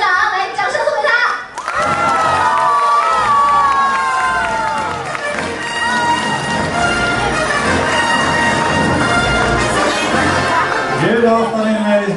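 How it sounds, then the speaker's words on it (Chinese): Cheering and applause from a cruise ship audience welcoming the captain, dense and loud, with a presenter's voice carrying over the crowd. "请出本船的船长，来，掌声送给他"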